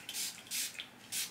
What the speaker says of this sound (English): Now I'm just spraying in the heat protectant